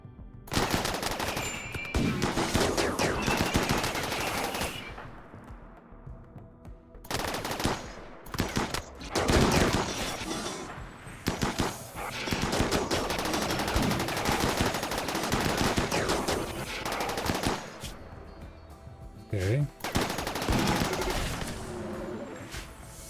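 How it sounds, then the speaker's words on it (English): Heavy gunfire from a video game, with dense bursts of machine-gun fire and gunshots rattling almost continuously over about twenty seconds, loud and close with brief lulls between volleys. "that is a lot of gunfire."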